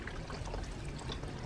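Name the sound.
water poured into Karcher SC3 steam cleaner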